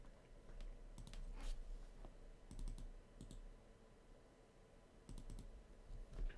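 A malfunctioning computer keyboard is typed on in bursts during a game session, with clusters of quick, faint key clicks separated by short pauses over low room hum.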